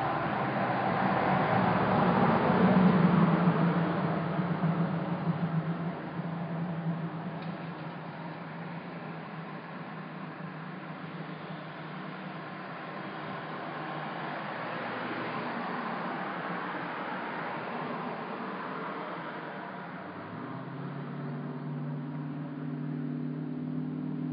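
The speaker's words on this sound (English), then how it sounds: "We are just looking at the traffic in Omemee here." Road traffic passes through the town of Omemee: a steady broadband road rumble, louder at first as a car goes by, then a continuous low wash with another vehicle swelling near the end, no voices.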